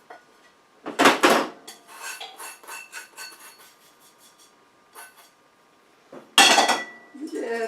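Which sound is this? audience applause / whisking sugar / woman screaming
whisking sugar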